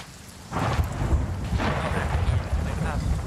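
Thunder rumbling through rain during a storm in the pirate video game Sea of Thieves, a loud sustained roll with repeated heavier swells over steady rainfall.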